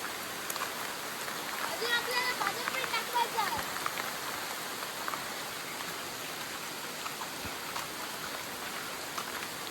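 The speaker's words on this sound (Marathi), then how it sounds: "तर काही पाऊस एकदम खूप जोरात आलेला आहे बघा." Heavy rain pours down in a dense, steady hiss close by in a village, with scattered drops pattering on a surface and a voice speaking faintly underneath.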